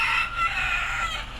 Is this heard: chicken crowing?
yes